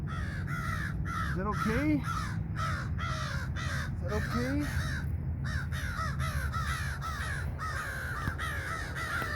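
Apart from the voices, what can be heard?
crow cawing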